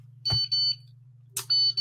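An egg timer goes off with two loud, shrill electronic beep bursts, each followed by a steady ringing tone, over a constant low hum.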